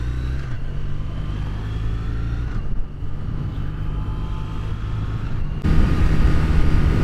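A Ford GT-40 is driven with a steady, loud engine drone and low rumble, rising a little in level near the end, partly masked by wind and microphone noise.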